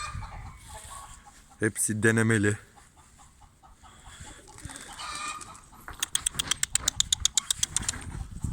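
Turkeys gobble in short rattling bursts, including a rapid series of sharp calls, alongside clucking fowl and brief speech.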